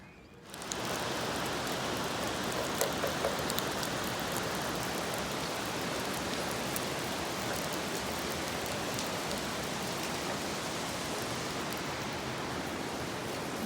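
Steady, dense rainfall in the Italian hills hisses evenly and continuously, broadband and close, with scattered louder drops tapping nearby surfaces and no voices.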